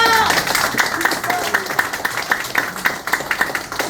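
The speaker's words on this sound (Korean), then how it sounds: "박수." Audience clapping at a Korean honorary-degree congratulatory address, a steady patter of many hands at moderate level, with a voice speaking over it at the start.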